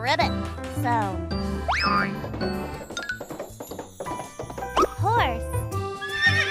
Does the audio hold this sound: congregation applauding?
no